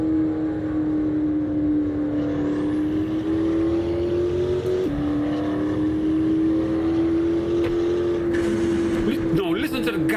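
A McLaren P1 supercar engine in Assetto Corsa drones loudly and steadily, its pitch holding with small shifts and a brief dip mid-run, near and continuous throughout.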